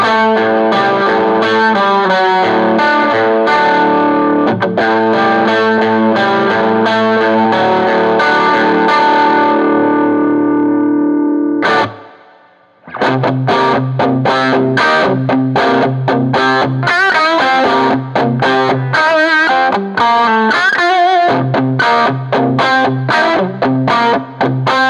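Electric guitar through a Nocturne Fluid Drive overdrive pedal with its bass control turned up, thick driven chords ringing out and then a brisk run of picked riffs after a brief pause, loud and close with no talking.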